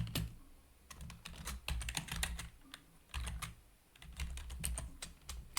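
Rapid typing on a computer keyboard in bursts with brief pauses, close and quiet, keys clicking in quick runs with no voice over them.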